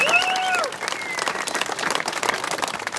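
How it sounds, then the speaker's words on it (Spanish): Crowd applause at a street protest in Ixmiquilpan against the state government, a dense wash of clapping that follows a brief voice at the start and continues steadily throughout. "Aplauso."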